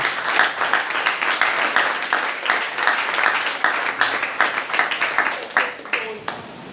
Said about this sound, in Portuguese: Vamos receber o nosso pastor louvando a Jesus com a salva de palmas